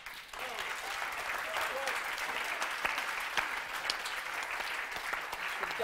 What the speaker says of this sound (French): on va t'applaudir encore plus fort que ça